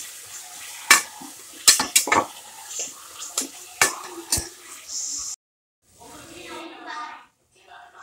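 Shallot paste stirred into tomato rice masala in a pot: several sharp metal spoon clanks and scrapes, then a brief silence and softer stirring sounds near the end.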